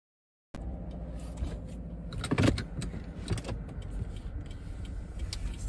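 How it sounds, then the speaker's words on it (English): A car's engine starts abruptly after a moment of silence and then settles into a steady, close idle with some brief clattering and creaking. "when I started up my car that it actually did start"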